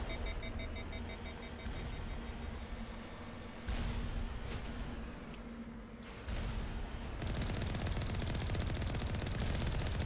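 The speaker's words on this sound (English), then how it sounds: "Why are they shooting at us?" Automatic gunfire in the video game Mass Effect rattles in steady rapid streams throughout, fairly faint and continuous, with tonal game sounds mixed in.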